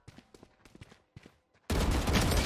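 Gunfire in the Valorant video game: a few sharp, quieter shots in quick succession, a short pause, then a sudden loud dense burst of fire that carries on to the end.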